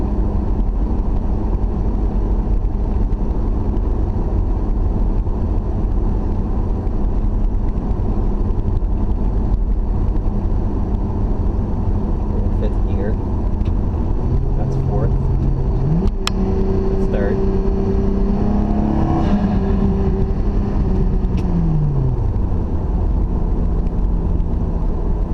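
A 1999 Lexus GS300 with a turbocharged 2JZ-GE inline-six cruises at about 50 mph, a low steady engine drone with road and wind rumble inside the cabin, rising briefly in tone, while someone talks throughout.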